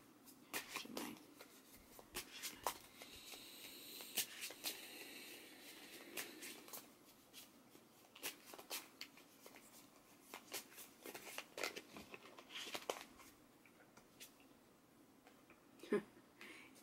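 Tarot cards shuffled by hand in short soft riffling bursts that come and go, faint and close, with a quiet voice speaking in between.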